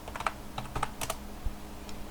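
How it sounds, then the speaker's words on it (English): Typing on a computer keyboard: a quick run of light, close key clicks in an uneven rhythm, with no talk over it. "So we just type that in there or paste it in there as I'm doing."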